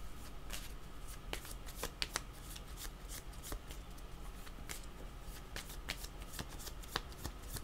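Tarot cards are shuffled over and over, a steady run of quick, crisp riffling flicks and soft slaps, close but fairly quiet, with no voice over them.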